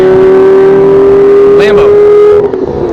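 A Lamborghini roars past at close range on a race track during a Mini track event, its loud engine tone holding high before sweeping down and fading as it goes by.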